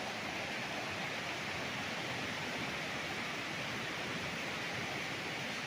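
A river at a resort in Cavinti, Laguna rushes with a steady broadband hiss, continuous and even throughout, faint in level with no voices.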